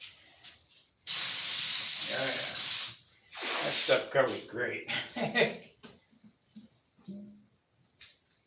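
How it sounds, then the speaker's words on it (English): A loud burst of orange paint spray hisses for about two seconds, then a person speaks. "And this is ready to spray."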